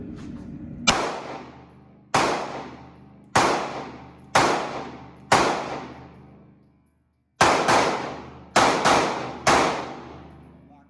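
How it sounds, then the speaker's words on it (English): A SIG P365 SAS pistol fires nine sharp, loud shots from a 10-round magazine, spaced roughly a second apart with ringing decay, a short pause midway, then a quicker cluster of four. "let's go ahead and run these mags through it. Make sure the 365 SAS functions properly."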